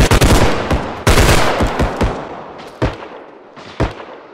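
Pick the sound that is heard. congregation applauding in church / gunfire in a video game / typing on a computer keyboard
gunfire in a video game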